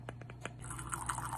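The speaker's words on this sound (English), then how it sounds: "Once they're done, they should sound like this." Crispy baked chicken wings crunch in a few quick, distinct crackles close up, followed by softer ongoing crisp crackling, faint overall and with no talking.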